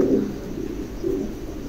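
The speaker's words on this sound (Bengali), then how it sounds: "চমৎকার এক জোড়া কবুতর, একদম নতুন নিউ অ্যাডাল" A pair of big, newly adult pigeons cooing close by, soft low throaty coos in two swells over a faint steady background hum.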